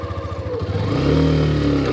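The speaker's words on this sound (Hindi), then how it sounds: "ये आ चुकी है सेकंड गियर में बाइक अपनी बाहर।" Hero Xtreme 125R motorcycle engine revving in second gear while riding off-road through slippery mud, a steady mid-pitched growl that swells louder after a moment, close and alone.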